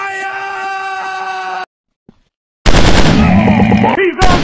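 Loud rapid machine gun bursts in the mobile shooter FPS Commando Secret Mission, cutting out for a silent gap then resuming as a dense, close automatic barrage.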